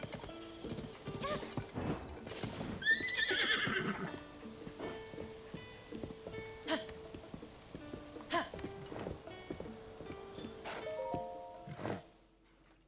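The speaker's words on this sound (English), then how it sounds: "Will this wild horse do?" A wild horse in the video game Zelda: Tears of the Kingdom whinnies loudly and snorts while hooves clop in a steady rhythm, set against game ambience and music.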